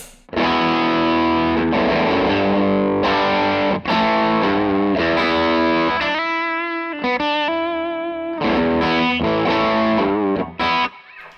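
Electric guitar played through a Fulldrive overdrive pedal into a Victory V40 The Duchess amp, strummed chords and ringing notes with a warm, slightly crunchy tone, loud and continuous without talking.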